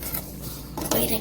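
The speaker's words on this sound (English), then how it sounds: "we have to put another plate on top" Ceramic plate set down on top of a book, a brief clatter and scrape of dish against paper, close and moderately loud, with background speech around it.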